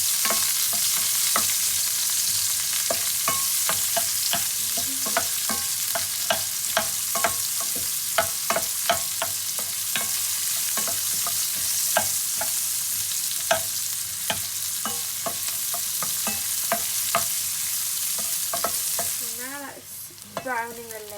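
Onions with chili and turmeric fry in a pan, giving a steady, dense sizzle broken by repeated spatula scrapes and taps as they are stirred, close and continuous with no talking.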